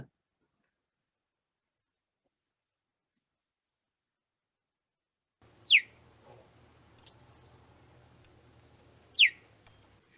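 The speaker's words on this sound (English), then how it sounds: "Yes, the cheetah's chirp." Two high, sharp cheetah chirps spaced a few seconds apart after a long silence, faint hum in between.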